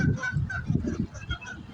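A flock of geese returning to St. Louis honks repeatedly in overlapping, uneven calls, fairly close and loud, with no talking.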